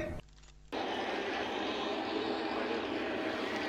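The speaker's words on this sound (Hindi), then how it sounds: "अभी एरोप्लेन आ रहा है इसलिए नहीं उड़ा रहे" An airplane passes overhead, a loud broad roar that swells in abruptly after a short quiet gap and stays steady to the end.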